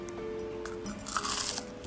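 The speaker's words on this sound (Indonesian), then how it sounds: "Ini kriuk banget." A bite into a crunchy homemade banana crispy pastry gives a few close, crackly crunches near the middle, over a quiet background with faint tonal hum and no talk.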